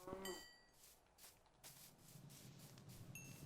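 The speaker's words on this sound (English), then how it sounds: "Sorry, Mr. Cow" A cow in the survival video game Nomads Land gives a low, faint moo near the end, following a few soft clicks and game sound effects.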